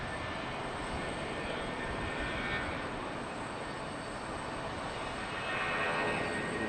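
Airbus A319 jet departing Charlotte Douglas airport, a steady broadband engine roar heard from a distance that swells slightly toward the end, with no voices.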